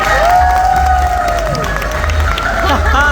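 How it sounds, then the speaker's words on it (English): Audience at an award speech cheering and applauding, a dense roar of voices and clapping with whoops and high shouts over it, loud and sustained throughout. "So can we give all the others a round of applause?"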